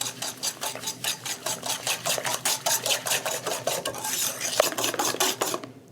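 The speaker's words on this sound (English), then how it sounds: "I'm gonna give this a quick whisk." Fast whisking of a bread pudding custard mixture in a bowl, with around twenty quick, regular scraping strokes close up, continuing for several seconds with no talking.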